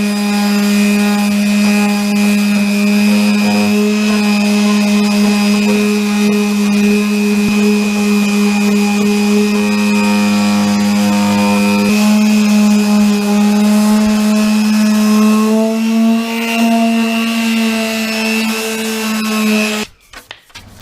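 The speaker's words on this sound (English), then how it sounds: "now I'm sanding that back" A power sander works over dried wood filler on a home-built arcade cabinet, giving a loud, steady motor drone with a strong hum that holds for about twenty seconds, then cuts off abruptly.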